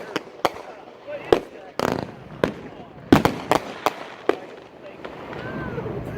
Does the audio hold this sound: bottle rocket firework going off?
yes